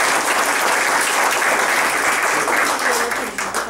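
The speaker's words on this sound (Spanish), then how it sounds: "les solicito un aplauso." Warm, loud applause from a conference audience thanking a panel, a dense continuous roar of clapping that holds steady and starts to thin out near the end.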